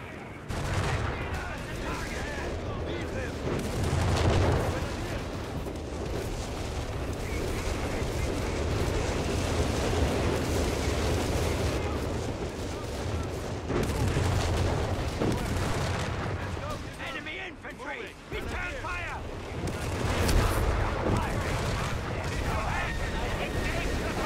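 An artillery strike and crackling gunfire rumble through a Company of Heroes 3 Wehrmacht team battle, with dense, continuous volleys and explosions while voices talk over the din.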